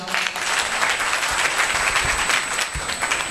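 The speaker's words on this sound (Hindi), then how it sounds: "ताली बजाओ" Audience at a religious question-and-answer gathering with Bageshwar Dham Sarkar claps in response to a good question, a brisk, dense burst of applause that continues steadily throughout.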